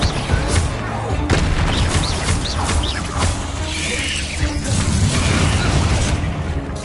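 Bombarda blasting spell explosions in Hogwarts Legacy, a dense run of booming blasts and crashes with game effects piling up continuously over busy combat sound.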